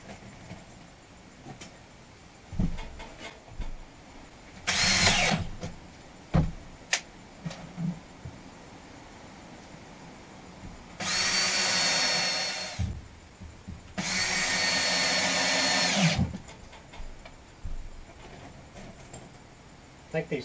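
A power drill drives screws into plywood inside a cargo trailer being converted into a camper, with three loud whirring bursts, the last two each lasting a couple of seconds, among clanks and handling noise.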